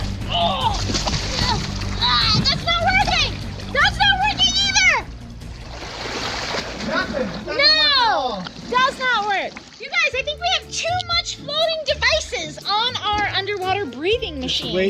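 Water splashes and sloshes in bursts as a LEGO submarine is pushed down into water, mixed with excited children's voices and chatter throughout.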